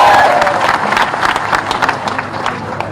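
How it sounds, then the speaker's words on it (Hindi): Audience applause at a live government event in Bhopal, a steady wash of many hands clapping with crowd murmur, fairly loud and continuous throughout. "हमारे ताली बजाओ तो अच्छी बजाओ"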